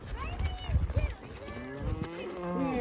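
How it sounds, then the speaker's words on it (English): Cattle mooing close by during a horseback ride among a herd, with several low, drawn-out moos overlapping each other and light background noise. "Oh, look how well behaved the cattle are."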